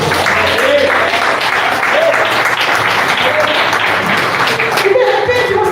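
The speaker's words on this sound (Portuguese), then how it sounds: "aplauda ao Senhor Jesus" A church congregation applauds in a steady, dense wash of clapping that runs the whole time, with voices and a few tonal sounds mixed in beneath it.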